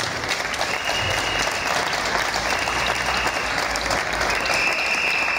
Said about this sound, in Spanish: daros un fuerte aplauso